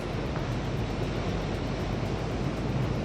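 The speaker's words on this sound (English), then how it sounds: "Hopefully this footage is giving you an idea of the power of the waves and the sea." Sea waves surge against rocks and rock pools at high tide as a continuous broadband wash of surf with wind buffeting the microphone, fairly faint and steady throughout, with no talking.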